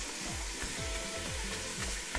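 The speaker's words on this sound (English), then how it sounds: "I'm just gonna brown this ground beef" Ground beef browning in an Instant Pot Dutch oven gives a loud, dense sizzling hiss, with low rhythmic scraping strokes repeating under it.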